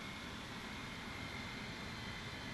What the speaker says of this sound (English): Engine sounds.